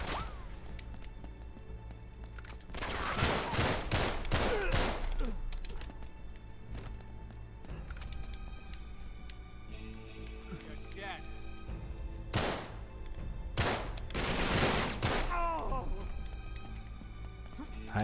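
Bursts of AK assault rifle fire in Uncharted 3, short volleys of sharp cracks in two clusters, loud and close, over a steady bed of game music and ambience.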